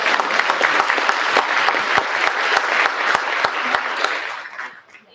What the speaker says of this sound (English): I just want to give Diana Kennedy a round of applause.